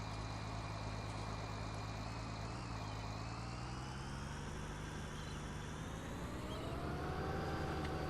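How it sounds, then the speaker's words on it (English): A farm vehicle engine in Farming Simulator 19 runs steadily at high revs, a loud continuous drone with a rising whine and no talk over it. "It sounded like the engine RPM on this was up even."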